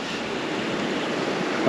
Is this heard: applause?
no